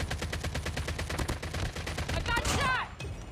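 Rapid bursts of automatic gunfire from the mobile game Call of Duty Mobile, loud and dense with repeated shots rolling together, followed by a brief whooshing effect near the end.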